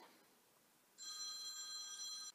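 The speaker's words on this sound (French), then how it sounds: "Téléphone qui sonne." A telephone rings once in a faint electronic bell tone, one sustained burst of a little over a second that rises out of a quiet room.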